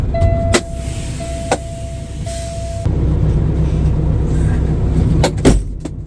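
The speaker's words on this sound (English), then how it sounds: "let me have y'all wait on me for just a minute while I slide these tandems real quick" A semi truck's trailer tandems being slid on a heavy load: sharp pneumatic releases and metallic clunks ring out over a steady idling diesel rumble, with a whistling air tone early on.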